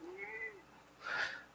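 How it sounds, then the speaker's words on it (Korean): A cat gives one clear, drawn-out meow up close indoors, followed by a brief noisy rustle, with no speech over it. "고양이가 한마디 하고 싶다네요"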